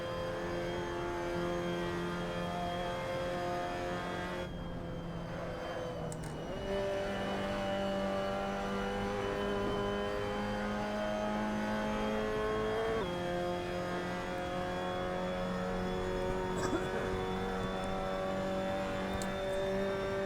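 A Mazda MX-5 Cup race car engine in a sim racing game drones steadily at high revs, its pitch shifting as gears change, loud and continuous with no talking.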